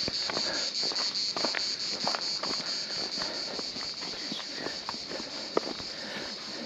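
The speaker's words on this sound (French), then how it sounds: "là il y a des grillons, il y a de tout qui chante" Crickets chirping in a continuous high, steady drone near a beach on the Bassin d'Arcachon on a hot, cloudless day, with faint footsteps and scuffs beneath.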